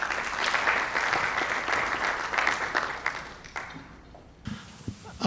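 An audience applauds to welcome speaker Andre Champagne to a talk on off-grid transportation in entertainment, a dense steady clapping that fades away toward the end before a few faint knocks and shuffles.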